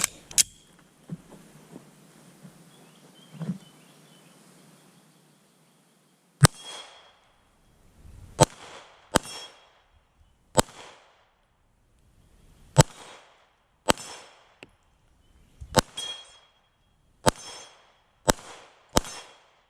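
Rounds from a factory 9mm handgun fire one after another, sharp loud bangs spaced about a second apart after a quieter stretch of handling noise, with no talking.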